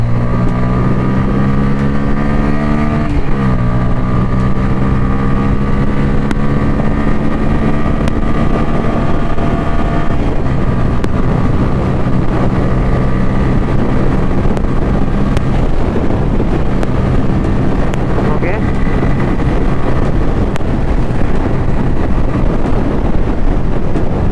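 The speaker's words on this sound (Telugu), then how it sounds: "ఈ బైక్లో ఎగ్జాస్ట్ సౌండ్ కూడా చూసుకుంటే" A Bajaj Pulsar N160 motorcycle engine idles loudly and is revved, its steady droning, slightly bassy exhaust note rising in pitch, then settling into a continuous rumble.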